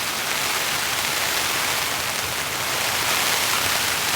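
Heavy torrential rain pours steadily onto a camping tarp during a solo camping trip, a dense, unbroken hiss that stays loud and even throughout with no voices.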